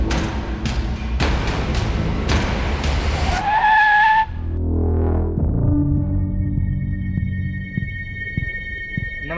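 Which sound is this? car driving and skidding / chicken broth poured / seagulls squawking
car driving and skidding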